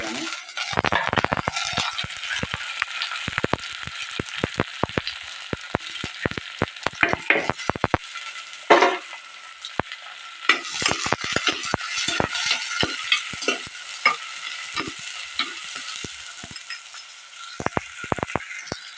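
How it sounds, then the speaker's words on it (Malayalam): Onion dropped into hot oil for sardine curry, sizzling steadily with repeated sharp clinks and scrapes of a spoon stirring in the pan, close and fairly loud throughout. "ഇതിലേക്ക് കുറച്ച് ഉള്ളി ഇട്ട് കൊടുക്കുക"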